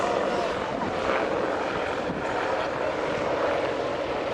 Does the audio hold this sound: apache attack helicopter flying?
yes